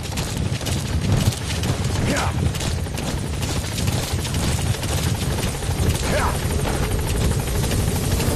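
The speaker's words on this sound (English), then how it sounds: "Support helicopter has arrived." A support helicopter arriving at a landing zone in Metal Gear Solid V: The Phantom Pain drones loudly and steadily throughout, a constant thick chopping rotor roar close by with no breaks.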